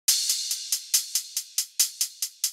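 Crash cymbal sample processed with EQ, delay and OTT compression: a bright, hissy wash repeating in a quick steady pulse of about a dozen hits, each decaying into the next, with no voices.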